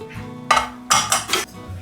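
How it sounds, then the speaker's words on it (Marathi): Metal pots and a pressure cooker clink and clatter as cooked vegetables for misal are taken out in a home kitchen: a few sharp, close, loud metallic knocks and scrapes in quick succession. "ही आपली भाजी निघालेली आहे कुकरमधनं."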